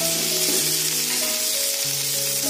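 Curry leaves sizzle and crackle in hot oil with small onions for vendakkai puli kuzhambu, a loud and steady close frying hiss.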